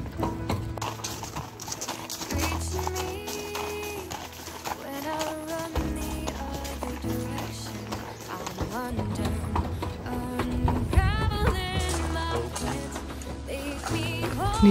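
Horse hooves clip-clop steadily in the Parc régional de la Rivière Gentilly, mixed under music and other sounds throughout, the rhythm fairly close and continuous.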